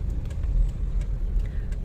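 A car in motion on city roads, a steady low engine and road rumble heard from inside the cabin, continuous and fairly loud with no talk over it.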